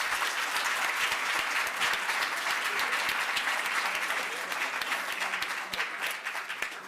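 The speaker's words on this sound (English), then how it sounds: "giving a round of applause to our panelists" A conference audience gives the panelists a round of applause, a sustained burst of many hands clapping with distinct individual claps, gradually tapering off.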